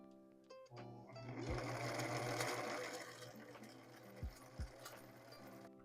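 A sewing machine stitches down fabric on a blouse with a steady, whirring mechanical hum that starts, runs for a few seconds close by, then slows and stops with a couple of soft thumps.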